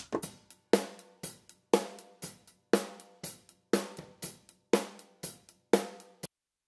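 A drum kit recorded through SE Electronics Voodoo VR1 ribbon overhead microphones, with regular snare and kick hits and ringing cymbal wash in a steady beat, ending abruptly.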